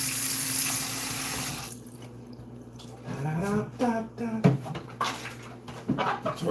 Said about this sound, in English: We're gonna wash them with vinegar now.